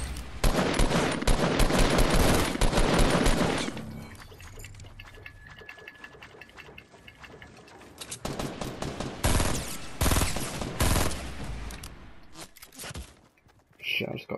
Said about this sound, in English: I just got shot from the side.